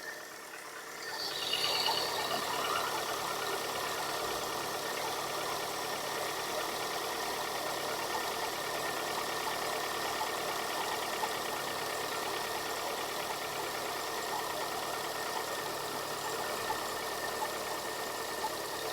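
A Vauxhall/Opel Corsa car engine turns over and settles into a steady, continuous idle, a low even rumble that holds for the rest of the clip with no talking.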